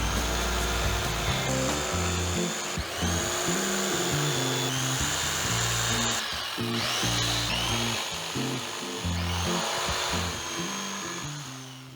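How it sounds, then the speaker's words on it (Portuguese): A power saw carves rounded shapes into a wooden sculpture, its whining motor rising and falling continuously for the whole stretch with shifting pitch as the blade cuts, loud and close with no talking. "E desenha as formas arredondadas com a serra"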